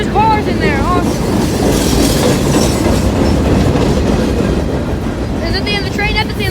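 Norfolk Southern freight train with old boxcars rolling past close by, a loud steady rumble of wheels on rails with squeals and metallic chirps from the wheels.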